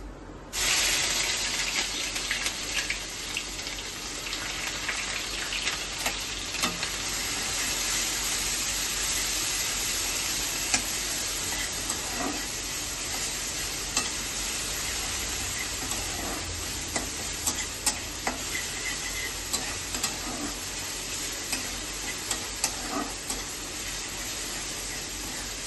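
Onion, ginger, garlic, cumin seeds and dried chilli frying in hot oil while being stirred, a steady low sizzle with faint scraping throughout, no talking.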